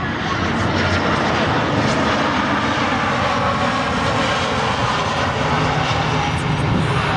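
A Rossiya Airbus A319 or A321 jet passes beside the main runway at Prague's Václav Havel Airport. It makes a steady, broad engine roar that stays loud and unbroken throughout.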